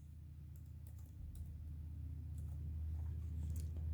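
Typing a password on a computer keyboard: a run of faint, quick key clicks over a steady low hum that swells slightly toward the end, with no voices.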